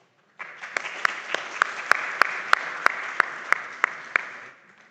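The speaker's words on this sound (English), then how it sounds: "Please give them like a round of applause." Scattered audience applause closes a session at the ICRP 2025 conference: a soft wash of clapping with a few sharp, evenly spaced nearby claps standing out, rising quickly and fading after about four seconds.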